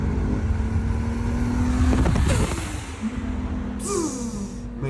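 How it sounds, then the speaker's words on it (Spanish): Toyota Supra MK4 sports car engine roaring steadily at high revs, with a rising whoosh and a sharp hiss near the end like turbo blow-off, loud and close without talk. "Me encanta ese sonido del turbo."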